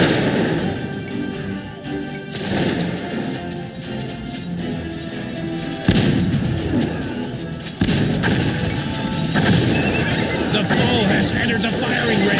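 Gunfire and battle noise in the strategy video game Cossacks 2 during a Poland versus Russia match, with repeated crackling musket volleys and thuds over a constant din, plus sudden louder bursts partway through, under spoken game announcements.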